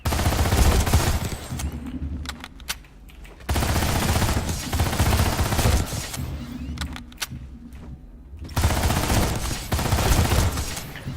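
A submachine gun fires in the online shooter PlanetSide 2 in long rapid full-auto bursts, loud and dense, broken by short pauses and a reload clatter between strings of fire.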